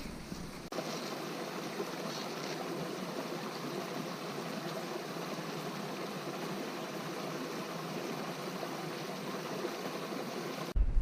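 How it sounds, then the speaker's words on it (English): Small waterfall on a shallow, low-water creek in the Quetico canoe country, a steady broadband rush of falling water that holds constant for about ten seconds, close and continuous with no voices. "Nice little waterfall over here."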